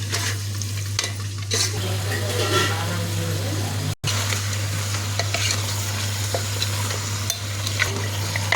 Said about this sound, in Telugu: ఇట్లా కదండి నూనెలో పసుపు వేస్తే